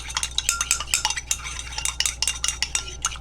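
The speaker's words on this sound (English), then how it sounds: "mix that very well" A utensil stirs and mixes aloe vera moisturizing lotion in a container, making steady, close scraping and clinking strokes in an irregular rhythm, with no talking.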